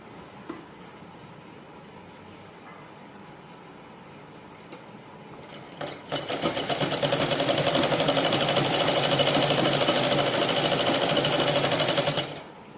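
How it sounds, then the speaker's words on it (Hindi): After about six seconds of near quiet with a few small clicks, a sewing machine starts stitching a straight seam on a petticoat, running loud and steady with a fast, even mechanical rattle, then stopping abruptly near the end. "अब मैं एकदम सीधी सिलाई लगा दूँगी ऐसे करके।"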